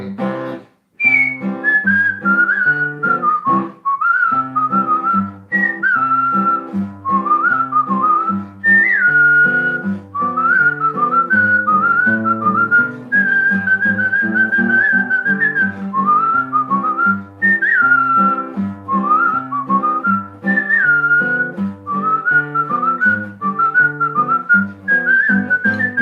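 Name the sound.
person whistling a tune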